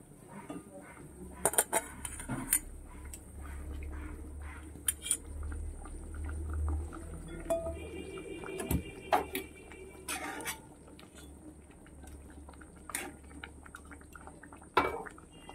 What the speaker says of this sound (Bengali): বন্ধুরা দেখো গ্রেভিটা ফুটে উঠেছে, এবার মাছগুলোকে দিয়ে দিচ্ছি